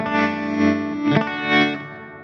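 Electric guitar played through a Kmise tremolo pedal with intensity set just over halfway, a sustained distorted chord swelling and dipping in slow, regular pulses, close and fairly loud with no voices.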